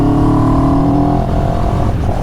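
A CFMOTO 700CL-X motorcycle engine and exhaust, a loud, close, steady drone whose pitch settles lower partway through.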